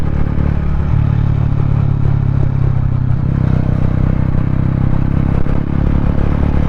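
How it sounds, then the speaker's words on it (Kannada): A Mahindra Mojo 300 motorcycle out on a ride gives a loud, continuous engine drone with low rumbling tones and a slight change in pitch partway through, along with clattering and wind noise. "ಸೊ ಇದೇ ಹೇಳ್ಬೇಕಂದ್ರೆ ಫಸ್ಟ್ ರೈಡ್ ಅಂತ ಹೋಗ್ತಿರೋದು ಮೋಜೋದಲ್ಲಿ"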